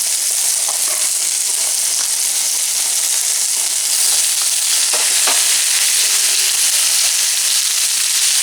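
Cut quail pieces fry in a hot pan, a loud, steady sizzle and hiss that carries on without a break from start to finish, with faint stirring sounds and no voices.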